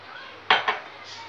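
A metal lid goes onto a pressure cooker pot of dal in a home kitchen, making two quick clanks close by over a faint background hiss.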